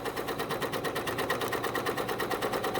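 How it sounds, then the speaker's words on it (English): A coverstitch machine sews steadily through fabric, a close, even rapid mechanical chatter that holds a constant rhythm for the whole stretch with no talking. "And you sew around, and when you come back to where you started"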